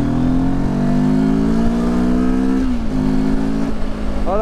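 A derestricted Benelli TRK 702 motorcycle pulls away, its engine note climbing steadily under acceleration, close and loud, then easing with a gear change before rising again.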